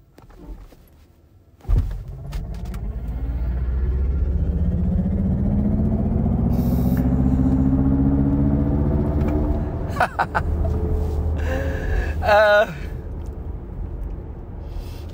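A 2023 Mercedes-EQ EQS 450+ electric car accelerates hard with traction control off, its rising whine and road rumble swelling steadily from a thump, then easing with a few clunks near the end.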